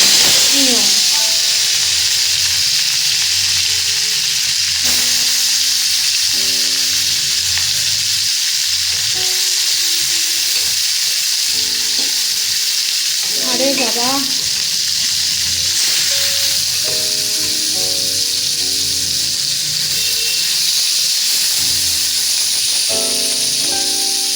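Small pieces of a large fish fry in hot oil, a steady loud sizzle and hiss running throughout, with a person talking over it for most of the time.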